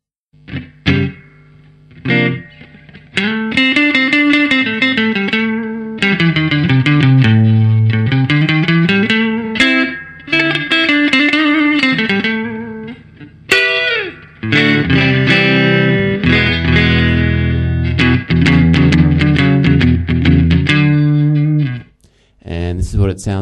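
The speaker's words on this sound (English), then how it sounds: "this is what it sounds like clean through a Fender FM 212 reverb amp with a Shure SM57." A clean Fender Telecaster Highway 1 USA electric guitar played through a Fender FM 212 reverb amp, miked close with a Shure SM57, rings out in chords and melodic lines with short pauses between phrases, loud and alone.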